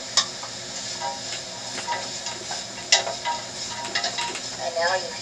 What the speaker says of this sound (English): We'll saute all of these ingredients together for a few minutes